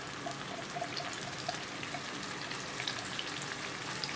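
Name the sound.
sambal terasi frying in oil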